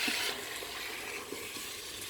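Quail kebssa being stirred in a Cookeo electric multicooker with a non-stick pot, giving a steady, soft frying sizzle with faint scraping stirs, close and moderately quiet, with no voices.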